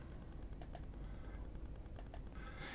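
A few soft keypresses tap on an HP Prime graphing calculator keypad, faint and close, in two small pairs over a quiet background hiss with no voices.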